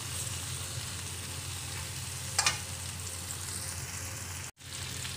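Onion and garlic sauté in a pan with a soft, steady sizzle, close but fairly quiet, briefly broken by a short clatter and a momentary dropout.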